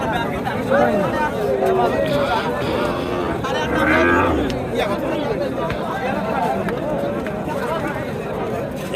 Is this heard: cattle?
yes